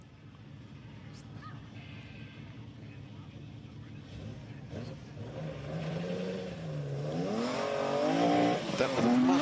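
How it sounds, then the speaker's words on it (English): Race car pulling away from the start line at the Leyburn Sprints with a gentle takeoff, engine note climbing steadily and growing louder through the gears, rising pitch sweeps near the end, with crowd and commentary murmur underneath. "Just let the car get going before stopping on the loud pedal."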